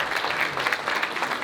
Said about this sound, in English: let's give Jake another round of applause